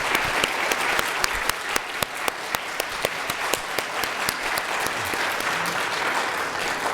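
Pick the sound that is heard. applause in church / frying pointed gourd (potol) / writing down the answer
applause in church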